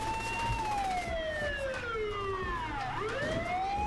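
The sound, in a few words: ambulance siren in the video game Saints Row The Third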